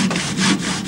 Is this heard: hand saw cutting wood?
yes